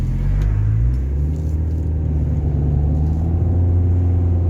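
Rover 25 with a CVT gearbox driving on the road, a steady low engine rumble with a smooth rising whir and no voices.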